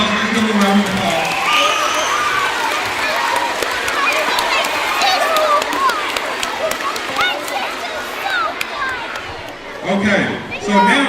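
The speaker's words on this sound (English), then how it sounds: "Let's give them a round of applause." A live event audience cheers and applauds after the winners, two brothers, are announced, a dense steady wash of clapping, whoops and crowd chatter lasting about eleven seconds, with voices mixed in.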